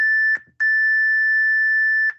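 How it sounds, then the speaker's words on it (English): A workout interval timer beeps loudly and electronically: a short beep, a brief gap, then a long sustained pure tone lasting about a second and a half, alone with no voices. "I'm going to get our next timer going."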